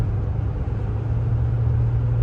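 Low, steady engine rumble from inside a 1973 Ford cruiser driving at night, a smooth hum that stays even and never revs hard, with no talking.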